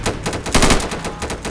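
Rapid automatic gunfire in the video game Insurgency, loud and close, a fast stuttering burst of shots that runs the whole moment with a denser cluster midway.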